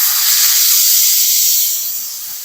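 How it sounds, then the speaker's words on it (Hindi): A pressure cooker holding mixed dal vents its steam in a loud, close, steady hiss that fades slightly toward the end. "ये जो कुकर का सारा प्रेशर है वो हम निकाल देंगे।"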